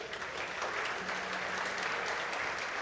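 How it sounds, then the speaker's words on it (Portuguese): Church congregation applauding during a sermon, a steady wash of clapping from many hands that holds evenly for a few seconds with no voices on top. "Aplauda Jesus."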